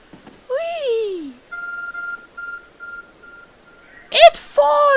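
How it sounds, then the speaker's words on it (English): A glowing phone-like object in Pokémon Legends: Arceus gives off a repeated electronic beep, a steady pulsing series of tones, framed by a voice making a sliding playful sound before and a burst of voice and noise after. "It's a glowing, beeping object over there."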